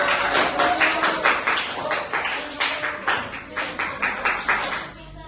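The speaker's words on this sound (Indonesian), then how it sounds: "Oke, tepuk tangan." A small classroom group claps together in quick, steady bursts for several seconds, then the clapping tapers off.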